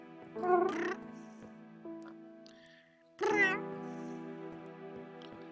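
A person imitates a cat's meow with two drawn-out, wavering vocal calls separated by a pause and a softer low murmur between them, close to the microphone in a quiet room.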